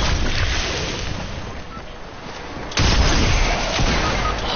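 Gunfire in the Fortnite video game, a dense run of shots and booms with a sharp, louder burst partway through, heavy and continuous without any talk over it.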